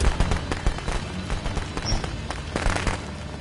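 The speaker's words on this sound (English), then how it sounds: "But they're gonna have a fireworks fiesta over there." Fireworks bursting at a nearby fiesta, a rapid irregular series of sharp cracks and pops layered over a steady crackling background, with a louder cluster of bangs near the end.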